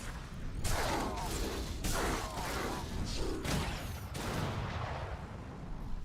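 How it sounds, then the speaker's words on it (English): Explosions and gunfire in Star Wars: The Old Republic, a run of sharp loud blasts and bursts repeating every second or so over a dense, busy background. "Alright, things exploding."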